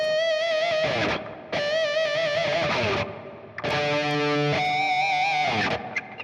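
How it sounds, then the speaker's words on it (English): Distorted electric guitar playing sustained, piercing pinch harmonics, squealing high notes in several loud phrases separated by short breaks, alone with no talk. "pinch harmonics at a fundamental level is just you taking a certain note and then you apply a technique"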